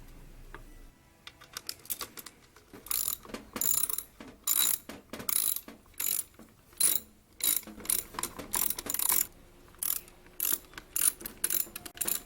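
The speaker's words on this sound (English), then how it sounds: "Mount the venturi to the interior of the heat shield using the hardware provided." Hardware being fastened as a cold air intake venturi is mounted inside its heat shield on a Jeep Wrangler, heard as bursts of rapid mechanical clicking and ratcheting with short pauses, close and moderately loud, with no talk.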